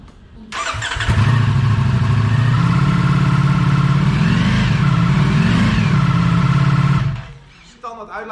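A Ducati Streetfighter V4 S motorcycle engine starts and revs hard, a loud sustained roar with rising and falling pitch swells, then cuts off into quiet.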